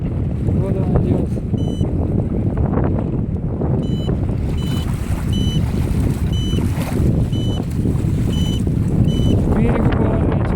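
CarpHunter remote-controlled bait boat on waves of the Tobol river in strong wind, its small motor giving repeated high whining pulses over constant heavy wind buffeting and water noise.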